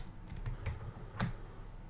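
Several quick keystrokes on a computer keyboard, soft and close, tapping in an uneven little run with brief pauses, no voices present.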